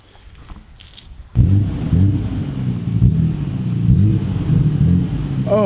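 A Nissan Skyline R32 GT-R engine fires up suddenly and loud after a quiet start, then rumbles and revs in repeated swells as the car is pulled out of a garage.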